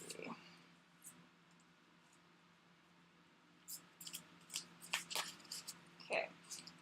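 Deck of animal medicine cards being shuffled, giving bursts of crisp riffling and flicking that grow busier toward the end, close by over a quiet room background.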